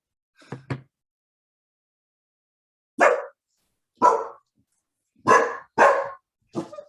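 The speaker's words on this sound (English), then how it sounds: "Apparently my dog has something to say." A dog barks indoors in scattered bursts: a quick double yap, a pause, then several sharp barks spaced about a second apart, fairly close and alone.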